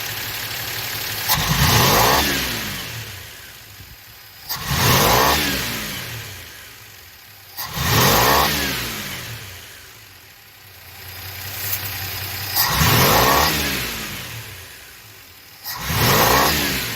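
A five-cylinder car engine has its throttle snapped open again and again, giving five loud revs that swell and fall away at a steady pace, with a rough idle between them.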